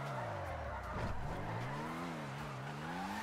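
In a video game, a car drifts with a sustained, wavering tire squeal over a steady engine drone, loud and continuous throughout.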